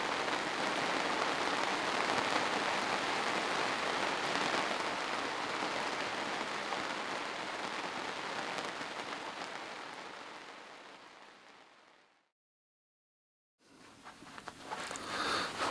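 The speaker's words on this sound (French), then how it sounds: "Et maintenant c'est la pluie." Steady rain falling on an anchored sailboat, a dense even patter and hiss that fades to silence for about a second near the end before the drumming resumes.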